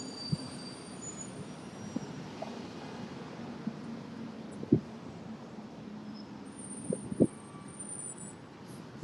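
A train moves through a Chicago station with a steady rumble of rolling wheels, punctuated by several sharp squeals, heard from nearby at moderate volume.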